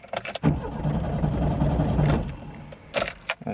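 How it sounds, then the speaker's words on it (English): A car with an LPG fuel system cranks over but fails to start, a close whirring starter run of about two seconds framed by key clicks and jangling, followed by a few short knocks. "and you're turning the key and the engine won't start"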